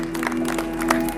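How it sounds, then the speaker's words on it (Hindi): Applause from an audience at an Arya Samaj annual day gathering in Malviya Nagar: a brief, steady wash of clapping at moderate loudness, with a low electrical hum underneath. "तो सब एक बार ताली बजा दीजिए।"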